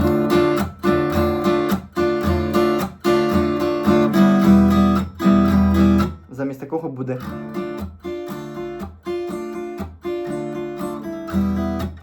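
Acoustic guitar chords strummed briskly with a pick in a steady rhythm, briefly interrupted by a few softer, plucked notes midway before the strumming resumes.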